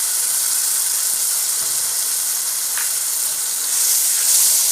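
Tomato paste made from three mixer-ground tomatoes hits a hot pan for chicken sukka and sizzles with a loud, steady, close hiss of frying and steam throughout.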